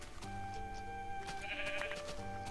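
Sheep bleating in the video game Minecraft at night, a few wavering bleats over a soft sustained musical backdrop, fairly quiet and without speech.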